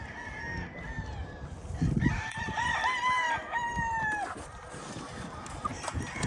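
A rooster crows repeatedly amid clucking and other fowl calls, with some background noise and no clear talk.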